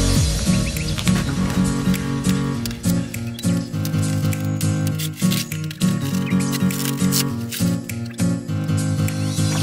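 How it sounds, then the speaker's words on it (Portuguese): Thermal acoustic insulation for a Kombi van is cut with a continuous close snipping and crinkling, a busy, loud, rhythmic rustle. "aí eu vou cortar direto no isolamento"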